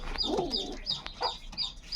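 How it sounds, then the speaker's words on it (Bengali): Black pigeons kept as pet birds call in a short run of close, overlapping coos and chirps, with no one talking. "এই যে দেখুন শখ করুন কালো পায়রা"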